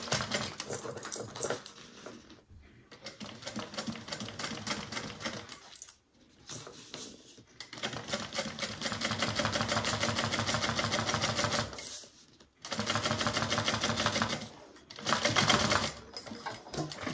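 A sewing machine top stitches along a bag seam near the top band in several loud, rapid mechanical bursts separated by short pauses, running close and alone without talk.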